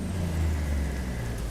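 A heavy truck engine in American Truck Simulator rumbles steadily, deep bass-heavy and continuous with a low idle drone, close and without talk.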